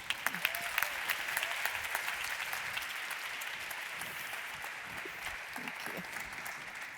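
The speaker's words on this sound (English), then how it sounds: "Give her a warm applause." A conference audience gives warm applause welcoming the host of a Partnering for Change event, sustained clapping from many people, with sharper individual claps standing out near the start and a steady roll throughout.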